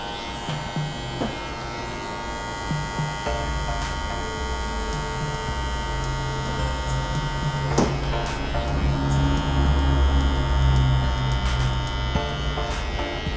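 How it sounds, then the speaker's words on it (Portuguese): A GBS finishing clipper buzzes steadily while tidying the neckline of a curly taper fade, a close, constant electric hum with small scraping touches against the hair and no talking. "Máquina de acabamento"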